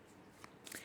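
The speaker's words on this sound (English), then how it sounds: "I'll just give you some demonstration of shuffling" A deck of Radiant Wise Spirit tarot cards being shuffled, heard as a soft, brief riffle of card edges, faint and close with no voices.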